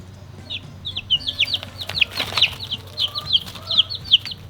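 Young chicks hatched from homestead eggs peep in rapid, high, overlapping chirps close by, with steady low hum and a few soft thumps underneath.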